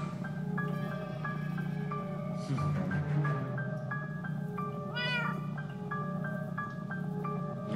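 Cat meowing in Minecraft Story Mode, a few clear meows over steady game music with a brief rising squeal.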